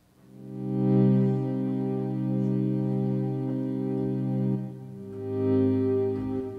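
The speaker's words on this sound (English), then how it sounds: "I always love Massive's reverb. Reverb sounds so good." A sustained synth chord from the Massive software synthesizer, washed in reverb, swells and fades in slow waves, rich and buzzy with layered harmonics, playing alone.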